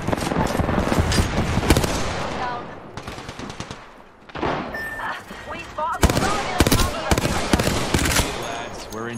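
A Knuckle Cluster fires in Apex Legends amid dense, loud bursts of gunfire and explosive cracks, with a short lull near the middle before the rapid volleys resume.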